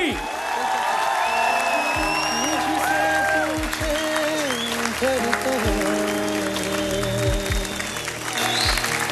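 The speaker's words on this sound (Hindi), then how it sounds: "मेरी और एक बार जोरदार तालियां फॉर भारती।" A TV dance show studio audience applauds and cheers loudly, with whoops over continuous clapping while a voice sings and talks on top of it.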